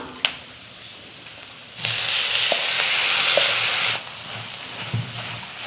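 Clam meat with curry leaves frying in a hot pan: a loud, steady sizzle bursts up and holds for about two seconds, then drops back to a quieter crackle with a few soft clinks.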